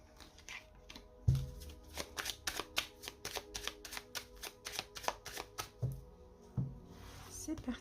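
Tarot cards shuffled and drawn by hand: a quick series of crisp riffling snaps and flicks, close and fairly quiet, with a few soft thumps as cards are set down, while someone speaks French over them.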